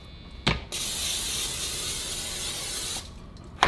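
Palm oil cooking spray hisses into a pan in a single sustained burst of about two seconds, close and fairly loud, framed by short clicks of the can.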